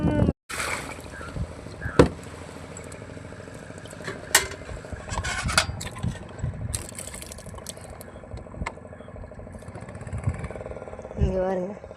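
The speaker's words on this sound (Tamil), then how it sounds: "அங்கே வருங்க, ஒரு போட் ஒன்று வந்துக்கிட்டு" A boat approaches across the water near a fishing spot, its low engine drone running steadily beneath people talking, with scattered clatters and knocks from handling gear nearby.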